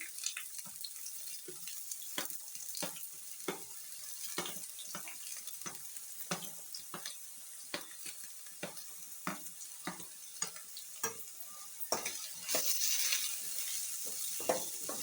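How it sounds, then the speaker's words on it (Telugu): Onions and green chillies frying in about three tablespoons of hot oil for a brinjal and yam tamarind curry, with a soft continuous sizzle punctuated by a regular series of sharp spatula scrapes against the pan, fairly quiet and close; no voices. "ఇది లైట్ గోల్డెన్ కలర్ వచ్చే వరకు వేయించుకోవాలండి"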